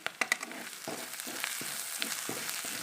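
Turmeric-spiced masala roasting in a pan, a steady close sizzle broken by sharp scraping stirs and clinks at the start, then repeated soft scrapes of the spoon through the roasting paste.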